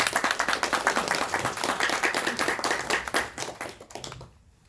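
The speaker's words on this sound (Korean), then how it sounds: "큰 박수 부탁드리겠습니다" Applause at a Korean-American community forum in Los Angeles greets a welcome speaker, dense clapping fills the room for a few seconds, then thins out and stops near the end.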